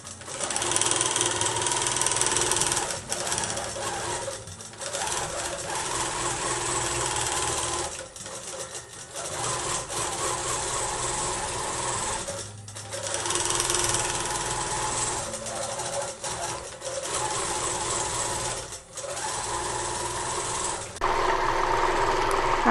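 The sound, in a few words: ProStitcher Lite sewing machine stitching quilt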